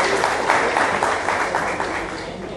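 A crowd at a municipal council session in Pacatuba claps steadily, with the mayor of Mombaça present. The applause is dense and fairly loud, holding evenly for a couple of seconds before easing slightly.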